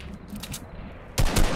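Gunfire in the Fortnite video game: a dense burst of rapid shots follows a quieter stretch of low rumble, loud and close toward the end.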